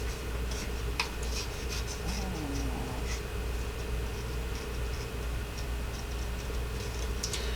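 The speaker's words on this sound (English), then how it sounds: "let's go ahead and fussy cut this little guy out" Scissors fussy-cut a small paper snowman ornament, giving soft, irregular snipping and ticking close by against a steady low background hum, with no talking.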